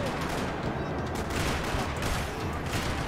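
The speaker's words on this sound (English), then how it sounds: "Another parking lot rattling with gunfire." Dense, continuous rattling gunfire in a parking lot in the video game Max Payne 3, loud and unbroken like sustained automatic fire, filling the whole stretch.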